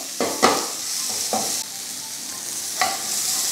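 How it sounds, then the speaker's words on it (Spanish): Soft sizzling as a Peruvian huancaína green sauce sautés in a pan, with a few scraping stirs of a utensil at irregular intervals, steady and close. "Esto lo vamos a saltear solo por un minuto a dos minutos"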